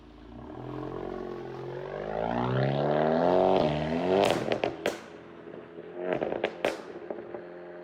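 A Mk7 GTI with a catback exhaust and downpipe revs up into a loud, rising drone, then sharp crackles and pops burst out as the revs drop, close by with no voices.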